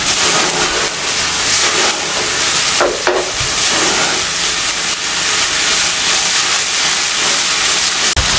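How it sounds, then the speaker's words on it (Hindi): Cubed chicken frying in hot oil for a chicken tikka paratha roll gives a loud, steady sizzle and hiss that carries on without a break, with a brief clatter near the start. "इसमें शामिल कर दें और इसका कलर चेंज होने तक इसको इसमें फ्राई करें"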